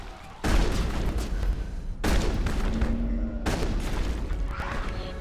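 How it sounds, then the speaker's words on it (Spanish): Shotgun blasts in the video game Mass Effect, three heavy booming shots spaced about a second and a half apart, each with a long rumbling tail, loud and close with no talk. "Escopeta."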